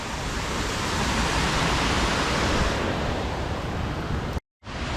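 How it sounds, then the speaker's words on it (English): Water pours over the old 1850s dam at Georgiaville Pond in a steady, broadband rush that stays loud and constant, cut off abruptly near the end by a brief gap. "There's the waterfall."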